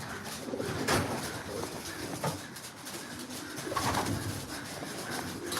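Racing pigeons in a loft, soft repeated cooing from several birds close by, steady and overlapping throughout, with no talk.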